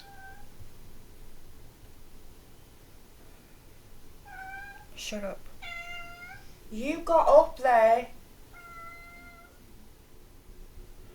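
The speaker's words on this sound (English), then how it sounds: "Cat goes up the door and then meows to get down." A cat perched up on a door meows repeatedly, loud and close, with several drawn-out cries clustered in the middle, while a person speaks briefly nearby.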